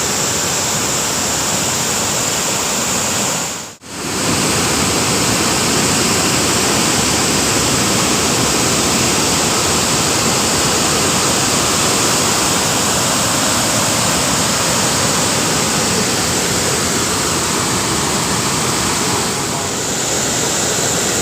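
Water from three opened dam gates rushes past in a loud, unbroken roar close by. The roar cuts out for a moment early on, then carries on steadily to the end.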